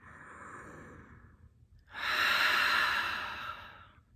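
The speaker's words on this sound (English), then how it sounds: "Taking a couple more breaths like this." Deep breathing during a yoga breath-work session: a soft, slow inhale, then a louder, longer, airy exhale like a sigh, close and intimate.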